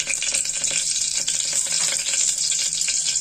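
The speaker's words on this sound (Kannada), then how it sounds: "ಇವಾಗ ಇದಕ್ಕೆ ಕರಿಬೇವನ್ನು ಹಾಕ್ತಾ ಇದ್ದೀನಿ. ಕರಿಬೇವು ಮತ್ತು ಬೆಳ್ಳುಳ್ಳಿಯನ್ನ ಹಾಕೊಳ್ತೇನೆ." Curry leaves and garlic hit hot oil already crackling with mustard seeds while a cowpea sambar is being made, giving a loud, close, steady sizzle and spatter that holds unbroken, with no talking.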